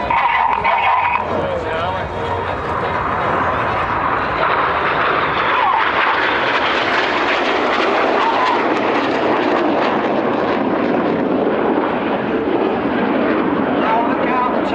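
RAF Red Arrows jets roar loud and steady overhead at the Dutch Air Force Days 2014 air show, a continuous broadband rush of engine noise that swells slightly and holds throughout.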